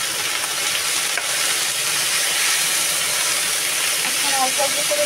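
Leafy greens sizzle and fry in hot oil, with a steady dense hiss that holds throughout and brief soft scraping near the end.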